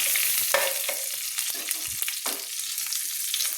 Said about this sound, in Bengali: দিয়ে আমি একসঙ্গে ফোড়ন দিয়ে দিলাম।